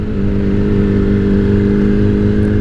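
A Yamaha R6 sport motorcycle engine holds a steady, loud, buzzing tone while riding toward the highway, a sustained drone without breaks.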